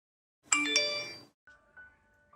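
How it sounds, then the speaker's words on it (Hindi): A phone chimes for an incoming text message: a bright two-note ding rings out alone, followed by a softer, shorter tone that fades away. "उसके 5 मिनट बाद मेरे फ़ोन पर एक टेक्स्ट आया।"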